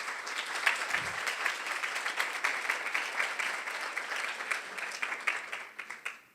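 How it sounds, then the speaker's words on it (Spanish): Audience applause filling a hall at the opening of a conference on editorial translation, steady dense clapping lasting several seconds and tapering slightly at the end. "Un aplauso."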